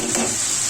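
Fenugreek leaves and fish curry being stirred in a hot pan over a high flame, a steady close sizzle with scraping stirring strokes throughout and no talk.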